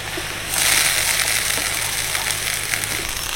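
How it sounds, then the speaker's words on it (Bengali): Grated potatoes hit hot oil and tempering spices in a kadai, giving a sudden burst of steady, bright sizzling that holds evenly without a break. "এবার আমি কড়াইয়ের মধ্যে গ্রেট করা আলুগুলো দিয়ে দেবো।"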